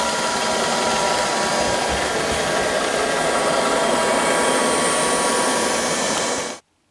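An Ilife V3s robotic floor sweeper mops as it goes, giving a steady whirring hum close by. The hum holds level for several seconds and then cuts off abruptly.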